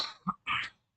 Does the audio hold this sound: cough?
yes